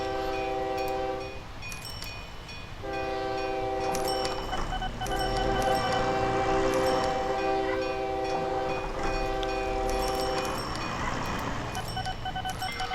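A video game locomotive in OpenTTD chugs uphill, rumbling steadily with a low engine drone, tonal horn-like notes sounding over it.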